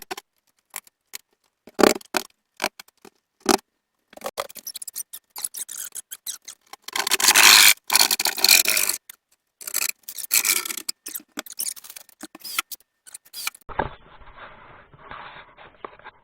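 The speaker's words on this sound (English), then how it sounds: "I'm going to cut the hole in the wall" Drywall is being cut to open a hole in an office wall, with scraping, rasping sawing strokes in uneven bursts, one longer harsh stretch partway through, then a fainter steady hiss toward the end, close by.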